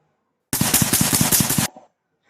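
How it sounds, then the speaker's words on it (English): Recorded gunfire plays from a sound file: a rapid automatic burst of about a dozen loud, evenly spaced shots lasting just over a second, then a short fading echo into silence. "Okay, this is some, I think some gunshot fire file."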